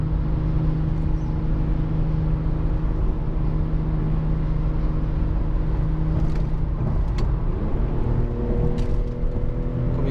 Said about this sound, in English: You hear the VQ sound more than the stock exhaust for sure.